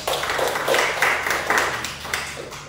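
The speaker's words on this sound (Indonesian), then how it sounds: "Boleh kasih tepuk tangan dulu untuk teman kalian." Classroom applause for a student during a lesson on ferrous and non-ferrous metals, a brief scattering of soft clapping from a small group that fades toward the end.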